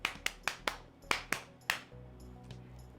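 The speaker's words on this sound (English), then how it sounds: "Or you can do the clapping method." Hand claps ring out in a classroom rhythm pattern, about seven crisp, close claps in an uneven beat, followed by quieter faint taps.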